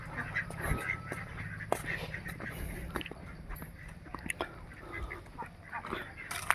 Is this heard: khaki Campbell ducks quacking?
yes